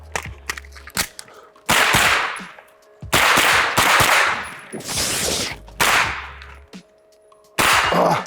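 Rifle shots at an outdoor shooting range, several loud sharp cracks spaced unevenly a second or two apart, each with a short ringing tail, alone without talk.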